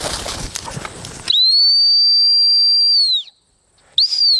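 A hunt whistle used in bird dog training sounds two shrill, steady blasts: a long one of nearly two seconds, then a short one after a pause. Faint outdoor noise comes before the whistle.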